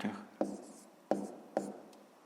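Handwriting math on paper for a fifth-grade exercise: three or four sharp pen strokes and taps spaced apart, each followed by short scratching, close and clear with no talking.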